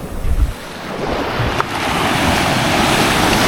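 Sea waves wash steadily into a cove on Calayan island, a continuous broad surf roar mixed with wind buffeting the microphone, with no voices.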